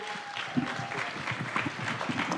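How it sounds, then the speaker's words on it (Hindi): A crowd at a televised interview event welcomes guests with steady applause, a dense patter of many hands clapping throughout. "एक बार जोरदार तालियों से स्वागत कीजिए।"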